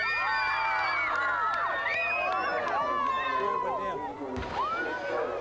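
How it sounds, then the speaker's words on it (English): A big football crowd at Elizabeth Oval cheers and shouts after a win, many overlapping excited voices and whoops filling the air close by, with a brief thump partway through. "a big crowd enjoying the win here at Elizabeth Oval"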